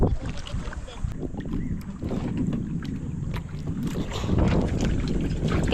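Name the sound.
boat engine running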